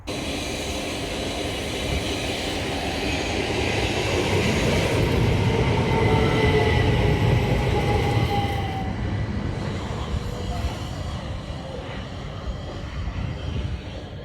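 A train rumbles past steadily for several seconds, a loud continuous roar with a faint high whine, easing off toward the end.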